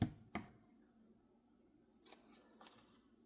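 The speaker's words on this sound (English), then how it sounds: "I'm going to cut it right along these black lines-ish." Scissors snip through paper while cutting out a cluster for a junk journal, with two sharp cuts near the start followed by softer, intermittent rustling and snipping up close.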